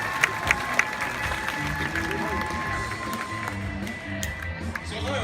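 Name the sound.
audience applauding Aasha the tiger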